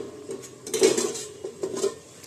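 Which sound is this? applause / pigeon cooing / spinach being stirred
spinach being stirred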